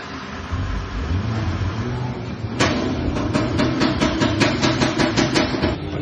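A Toyota AGH30 sits with its engine running and the air conditioning on, a steady idle hum carrying a faulty aircon fan motor whose rattle arrives partway through as a fast run of sharp, regular clicks.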